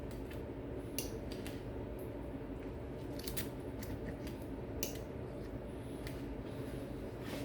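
Knife and fork cutting through a piece of orange beef on a plate, light scraping and clicking strokes repeating steadily over a steady background hum.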